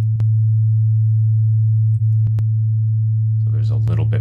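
A plain, steady sine test tone with saturation switched off hums loudly and evenly, broken by a few brief clicks, before a person starts speaking over it.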